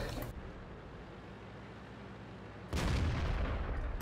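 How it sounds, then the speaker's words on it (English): Artillery fire in a tank video game on a swamp map: a low, steady rumble, then one loud, heavy boom that rolls on to the end. "But the artillery is not able to hit us"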